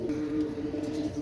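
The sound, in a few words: Pakistani chuha pigeons cooing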